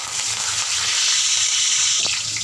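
Curry leaves dropped into hot oil with asafoetida, giving a steady, bright sizzle and spatter that holds throughout at close range, with no voice over it.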